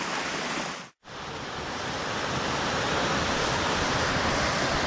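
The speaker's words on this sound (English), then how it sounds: "Looks like there's a waterfall right ahead there." Rushing water from a waterfall along a hiking trail near Cueva de los Guácharos in Jardín, Colombia: a loud, steady, close roar with one sudden brief dropout early on, then constant rushing. No one talks.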